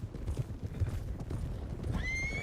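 Horse hooves clip-clop steadily at close range in Red Dead Redemption, an Appaloosa ridden, and near the end a horse's high whinny rises over the trotting.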